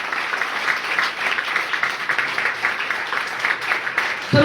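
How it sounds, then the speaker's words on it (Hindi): An audience at a business training seminar claps loudly and steadily in dense sustained applause, with a faint voice underneath. "ताली जोरदार बजाइएगा।"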